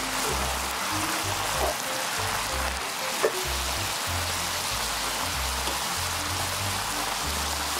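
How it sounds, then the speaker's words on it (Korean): Pork stir-fries in a hot pan with soy sauce, onion and cheongyang chili, giving a loud, continuous rain-like sizzle with occasional soft stirring scrapes, close up. "여기다는 진간장 1숟가락 넣고 먼저 간이 좀 배어들게 볶아주세요."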